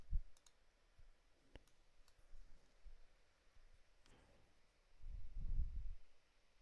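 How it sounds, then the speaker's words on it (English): Faint, sparse clicks from a computer keyboard being typed on, scattered at irregular intervals over a low, quiet background rumble, with a duller thump near the end. "I'm just typing away"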